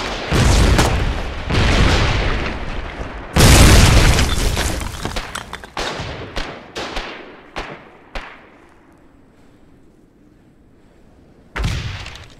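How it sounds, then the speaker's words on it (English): Grenade and other explosions going off in the war game Foxhole: a series of heavy booms and sharp blasts, several overlapping early then spaced out with quieter gaps, one final loud burst near the end. "Hey, grenade."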